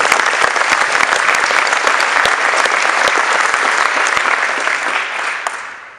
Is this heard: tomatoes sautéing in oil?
no